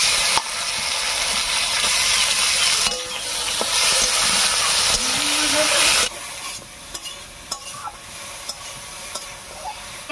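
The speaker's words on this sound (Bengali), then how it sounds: "এর উপরে চিংড়ি মাছটা দেবো।" Shrimp sizzle loudly in a pan of browned fried onions, a dense steady frying hiss with scraping stirs, then the sizzle drops lower and quieter after a few seconds, with occasional clinks of the spatula.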